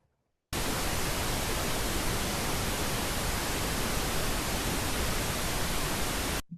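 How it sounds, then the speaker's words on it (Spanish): A steady pink noise test signal switches on abruptly and holds at a constant, loud, even hiss for about six seconds before cutting off, alone with no voices. "otro tipo de ruido, por ejemplo, el ruido rosa"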